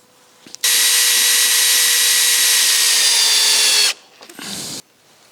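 A power tool drives long bolts into a massive wooden barn door: one loud sustained whir of about three seconds, then a short second burst, close up with no talk.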